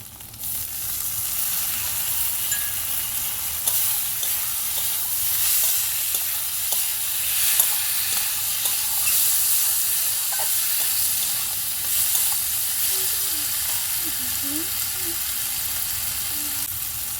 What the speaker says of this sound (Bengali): খুব ভালো করে কষিয়ে নেব। দিয়ে দেবো টমেটো কুচি।